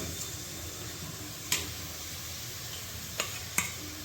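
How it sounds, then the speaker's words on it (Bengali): Mutton frying with onions for momos, a steady soft sizzle throughout with a few sharp clicks of a utensil against the pan. "বেশি ভাজবে না, হালকা লাল লাল। এরপরে মটনটা চলে যাচ্ছে পেঁয়াজের মধ্যে"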